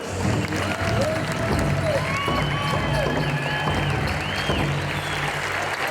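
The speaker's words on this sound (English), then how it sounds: "Big round of applause for Glenn Crooks." A crowd applauds and cheers steadily throughout at a pow wow exhibition at Mall of America, with a voice carrying over the clapping through a loudspeaker.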